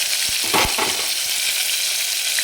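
Crushed garlic, 8-10 cloves, and cumin seeds sizzle and crackle in hot oil, a steady close frying hiss with a few soft stirring clunks early on and no voices.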